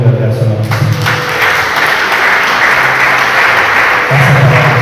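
Applause fills a church worship service, a continuous wash of clapping from the congregation with voices speaking over it throughout.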